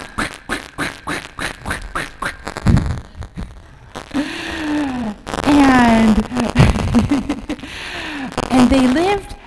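During a storytelling moment at a Sunday church worship service, a person imitates a duck's quacking with drawn-out nasal voiced calls, close and loud, after a run of rapid rhythmic pulses.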